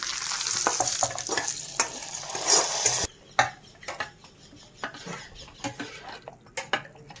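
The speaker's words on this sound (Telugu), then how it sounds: "పెరుగులో వేసుకుందాం పోపుని" Hot tempering of curry leaves, green chillies and dried red chillies is tipped into yogurt with a brief sizzle, followed by scattered spoon clinks and scraping against a bowl as it is stirred, close and without talk.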